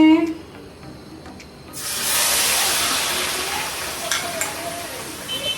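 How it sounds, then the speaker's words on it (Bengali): Onions drop into hot mustard oil for Bengali hilsa biryani and burst into a loud, broad sizzle that holds steady with crackling spikes. Light speech is heard before the onions go in. "এবার এই তেলের মধ্যে দিয়ে দেবো আমি পেঁয়াজ"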